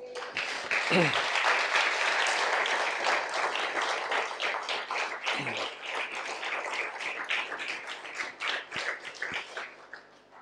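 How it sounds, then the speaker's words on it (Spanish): Applause from a church congregation fills the space, a dense, sustained clapping wash that stays loud throughout and thins slightly toward the end, with a few voices briefly rising above it. "Vamos a dar un aplauso al Señor."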